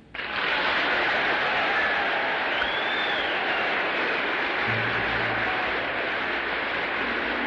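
A large audience gives General MacArthur a sustained, dense wash of applause that starts suddenly and holds steady throughout, with faint background noise beneath.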